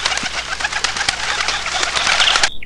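A pigeon coos in a stop-motion animation of a puppy and a pigeon, a steady cooing close by that runs for nearly three seconds, mixed with rustling bird sounds, before cutting off abruptly.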